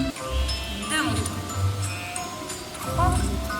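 Sheep bleat in a Futuroscope attraction, a wavering cry rising over a continuous low rumble, with a second bleat near the end, under voices and the noise of a crowded ride.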